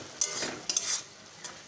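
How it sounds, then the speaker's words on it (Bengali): Fried bata fish stirred into mustard masala in a pan, two or three quick scraping strokes of a spoon with a soft sizzle, short and close. "এটাকে ভালো করে একটু মাখা মাখা করে নেড়ে নিচ্ছি"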